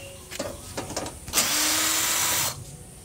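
A power screwdriver undoes screws on the outdoor cabinet of a Lloyd inverter air conditioner, with a few short clicks and handling knocks before a steady second-long whirring run, nearby and fairly loud.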